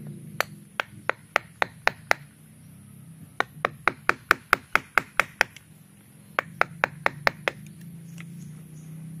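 Sharp wooden knocks of a mallet made from a tree branch driving a chisel into hard bonsai wood, struck in quick bursts of a dozen or so blows with brief pauses between.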